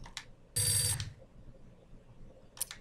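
A telephone rings in the video game Max Payne with short, bright electronic trills: a faint brief ring, a longer loud burst, then another ring after a quiet gap.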